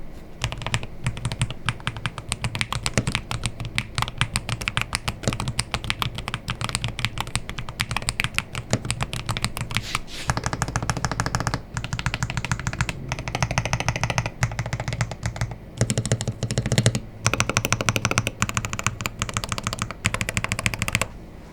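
Rapid, steady keystrokes on a Wallhack K-001 Hall Effect keyboard with an aluminum tray-mounted case, a dense continuous clatter of close, loud typing with brief pauses near the middle.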